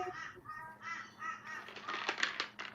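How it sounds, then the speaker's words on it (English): Several crows caw in harsh, overlapping bursts from a distance, a noisy flock calling repeatedly with no talking. "There's a murder out there of crows."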